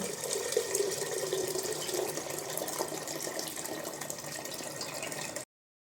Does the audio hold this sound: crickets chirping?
no